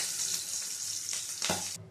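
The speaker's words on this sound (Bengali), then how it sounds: "এবারে ওই তেলের মধ্যে ডিমগুলো দিয়ে ডিমগুলো ভেজে নেব।" Eggs frying in hot oil in a pan for an egg curry, a soft, steady close sizzle and crackle that swells briefly near the end before cutting off, quiet and without talk.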